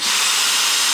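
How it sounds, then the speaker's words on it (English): A power driver runs a screw into a wooden shooting board, a loud, close, steady whir that holds without a break for about a second, with no voices. "put a second screw in."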